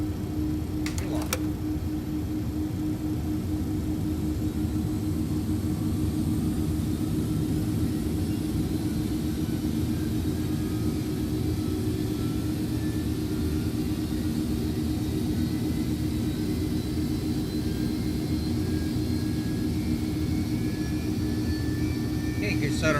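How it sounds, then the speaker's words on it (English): MD-11 jet engines spool up in the X-Plane 12 flight simulator, a steady loud droning hum with a constant low tone and faint rising whine that runs unbroken for over twenty seconds. "good start on all 3 engines"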